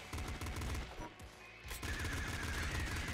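Rapid automatic fire from the pop gun in the video game Nuclear Throne, a dense stream of small popping shots that breaks off briefly and then resumes, loud and continuous.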